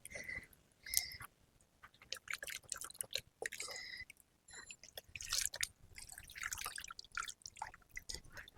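Water dripping and splashing while soil is washed off adenium roots, irregular wet drips and squishy handling noises, close and fairly quiet, with brief pauses between bursts.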